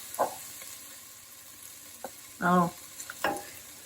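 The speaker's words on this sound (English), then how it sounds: "So now I'm going to add a tablespoon or so of tomato paste." Tomato paste being stirred into softened onions frying in a pot for moong dal, with a few short scraping and sizzling bursts over a quiet background; no talk.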